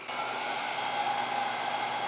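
Ecovacs X2 Combo cordless vacuum cleaner, rated at 6000 Pa suction, running with a steady high-pitched motor whine and airy rush, constant and close with no talking.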